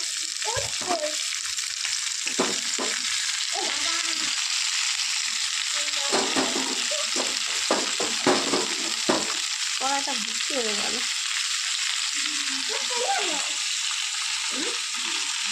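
Amla frying in oil in a wok, with a steady loud sizzle and scraping stirring strokes throughout while people talk over it.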